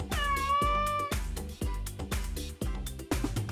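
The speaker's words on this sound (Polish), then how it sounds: "Kot." Cartoon cat meowing in a children's alphabet lesson: several loud, close, drawn-out meows one after another over a steady musical backing, with no talking during the calls.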